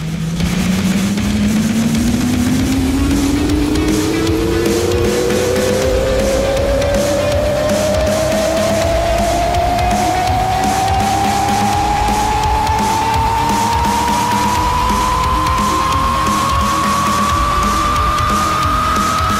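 In a video game, a truck-like car drives fast in reverse; one loud, continuous engine whine climbs steadily in pitch for the whole stretch with no pause.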